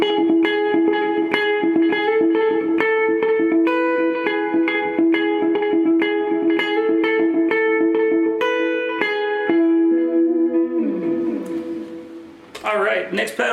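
A guitar played through a session pedalboard effect paired with a medium reverb, sustained picked notes ringing with a wash of tail, continuous and loud, ending in a noisier swell near the close.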